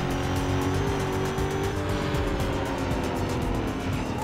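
Racing cars in the Need for Speed: Most Wanted video game, engines droning continuously and loud with rising revs and a hint of tire noise, close and sustained throughout.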